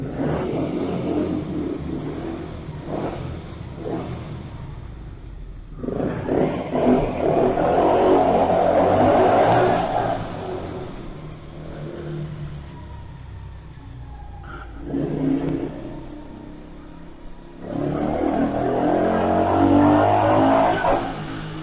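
A loud motorcycle engine with its exhaust baffle removed revs hard in repeated bursts, roaring up and dropping back to a rough idle between blasts, close by with no talking.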